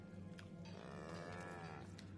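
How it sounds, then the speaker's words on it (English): Woolly cows in the video game The Outer Worlds moo with a long, drawn-out low call over a steady ambient hum, heard alone at close range. "Why are there woolly cows here?"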